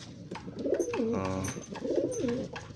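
A white pigeon coos close by in two rounded, throaty bursts, each swelling and falling in pitch, over a soft steady background.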